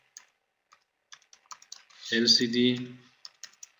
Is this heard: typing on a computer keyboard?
yes